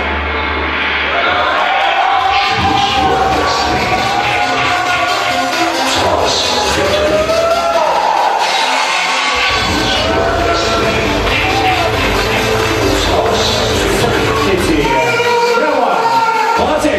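Prom-night crowd applauding and cheering in a banquet hall, a loud continuous wash of clapping and voices, with an emcee talking over it.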